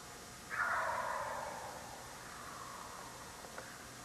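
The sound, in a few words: wild turkey gobbling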